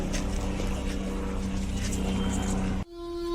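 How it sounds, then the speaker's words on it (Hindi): A helicopter flies among snow-clad Himalayan peaks on the route near Guptkashi toward Gaurikund, its loud, steady engine and rotor drone filling the air before cutting off abruptly near the end. "यहाँ आ गया एक और हेलीकॉप्टर।"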